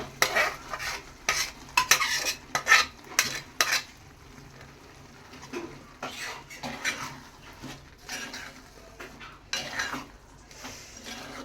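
Gongura paste being stirred into a prawn curry in a pan, with irregular bursts of spoon-on-pot scraping and clatter over a low cooking background, fairly close and without speech.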